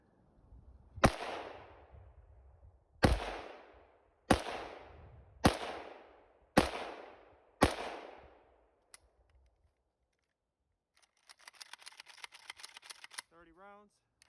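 An AKM rifle packed with snow fires six loud, evenly spaced single shots outdoors, each followed by a rolling echo, then a brief clattering mechanical burst.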